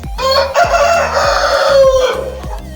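A country rooster crows loudly and close by, one long drawn-out call with a few short clucks or knocks around it.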